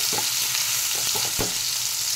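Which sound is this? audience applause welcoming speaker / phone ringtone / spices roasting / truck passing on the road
spices roasting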